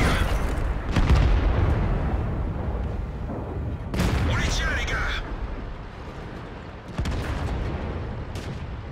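An AMX 50 100 tank in World of Tanks fires its autoloader clip on the Airfield map, giving several sharp, booming cannon shots spaced a few seconds apart while someone talks over the battle noise.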